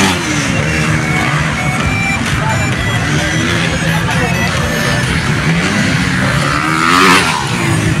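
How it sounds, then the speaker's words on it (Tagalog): A 250 cc racing motorcycle roars through a local town race in Sibuco, Zamboanga del Norte, its engine loud and revving over a crowd, with a commentator talking over it throughout. "Yun si Maki Chong, 250 lang yung motor niya."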